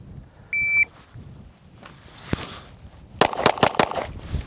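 A single short electronic shot timer beep sounds, followed by a few quiet movements and then a rapid series of sharp clicks and snaps during dry-fire draw practice.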